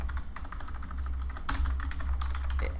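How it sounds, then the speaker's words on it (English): Someone types on a computer keyboard, a quick run of close, irregular key clicks that continues steadily throughout. "So if I started typing Caroline,"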